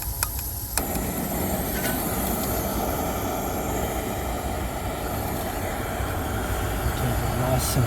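A train rumbles past a bridge at night at a steady, continuous roar, heavy and constant throughout with faint clanks.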